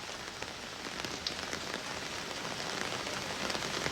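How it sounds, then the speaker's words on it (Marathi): Heavy overnight monsoon rain in Mumbai, a dense continuous patter of drops on surfaces, fairly faint and steady with no voices. "पावसाचा जो जोर आहे तो वाढताना दिसतो आहे"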